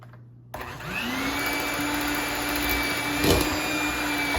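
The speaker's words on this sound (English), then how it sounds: "let's get my mixer. Let's cream this up right quick" Electric hand mixer creaming brown sugar for sweet potato pie cookies, switching on after a brief quiet start and then whirring steadily at close range with a constant motor hum and slight rattles.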